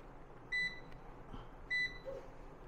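Two short electronic beeps from the timer of a three-burner tempered-glass gas stove, about a second apart, clear and close, over faint background hum.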